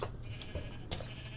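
Sheep bleating in the video game Minecraft, a couple of short, faint bleats over a steady low background hum, with no talk.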